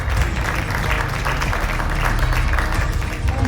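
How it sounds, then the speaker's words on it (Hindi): Audience applause at a health and wellness event in India, a loud, continuous roar of many people clapping steadily, with a low rumble of room noise underneath and no speech. "इससे अगर आप अपनी ताली बजाना चाहते हैं तो प्लीज जोरदार तालियों के साथ"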